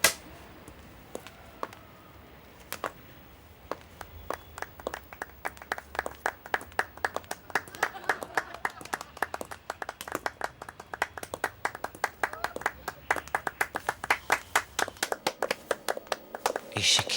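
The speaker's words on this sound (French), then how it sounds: "Mais c'est des applaudissements?" Scattered applause from a small group, starting as a few sparse claps and building to irregular, sharp clapping of moderate loudness, with speech faintly present.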